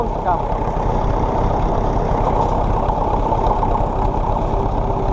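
A vintage Ferguson tractor engine, not a Perkins unit, runs at a steady idle with a low, even rumble close by and no change in pace.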